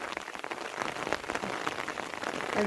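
Steady rain patters continuously on a surface nearby, a dense hiss dotted with individual drop hits that swells a little toward the end.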